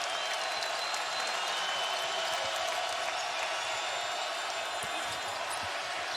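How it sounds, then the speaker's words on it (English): Crowd noise fills a basketball arena during a Louisville versus Ohio State game, with a steady, loud roar and scattered cheering throughout and faint ball bounces and squeaks beneath it. "Crowd really involved."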